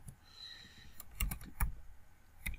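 Quiet, irregular clicks of keys being pressed on a computer keyboard while entering data in Robot Structural Analysis software, a few taps grouped in short bursts with gaps between.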